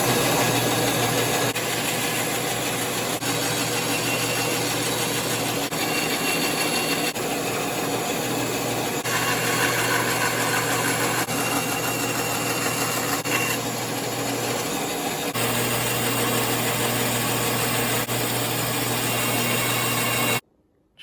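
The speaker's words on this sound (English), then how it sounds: "Just finished up with the bandsaw. All the pieces are cut out" A bandsaw cuts out workbench pieces from templated stock: a continuous close motor whine with a steady blade hum, cutting tone shifting slightly as the wood feeds, running about twenty seconds before stopping abruptly.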